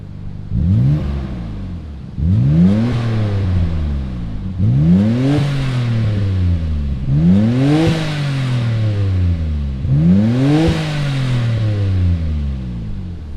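A 1993 Nissan Skyline GTR R32 V Spec, its engine already running, is revved hard five times in a steady rhythm, each blip rising sharply and falling back to idle, close and loud with no talk.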